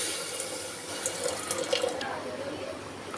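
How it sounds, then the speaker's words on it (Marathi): Hot water pours steadily into a pressure cooker on a gas stove holding roasted cracked wheat, a continuous close splashing stream with a few brighter gurgles. "हे पहा यामध्ये मी गरम पाणी घालत आहे"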